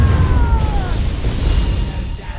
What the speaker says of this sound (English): Hit the Spectral Explosion.